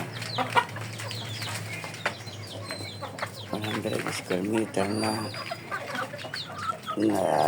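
Free-range hens cluck and squawk in quick, uneven bursts nearby while someone talks over them.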